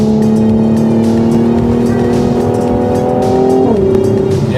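Close, loud engine drone from a Mercedes-AMG C43 driving fast in Sport Plus mode, holding a steady pitch before a quick dip as it shifts.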